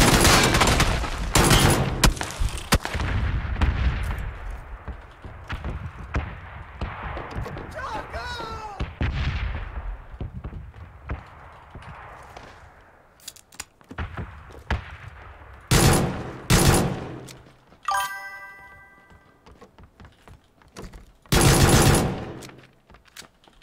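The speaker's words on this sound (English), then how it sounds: "Someone else was shooting that guy while he was upstairs." Gunfire in the PUBG battle royale game, loud sharp bursts and rapid volleys with echoing tails, some shots near and some farther off, separated by quieter gaps.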